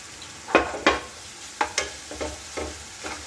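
Spice paste frying in a pan, a quiet sizzle under several distinct scraping strokes of a spatula at an uneven rhythm, close by and alone without speech.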